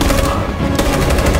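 Rapid automatic gunfire from a firefight in the video game Detroit: Become Human, a loud, dense burst of shots rattling on without pause.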